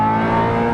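Ferrari 355 fitted with Tubi manifolds, Larini cats and a Capristo Stage 1 back box, engine held at a steady loud rev, a brief close, continuous howling exhaust note with no talk.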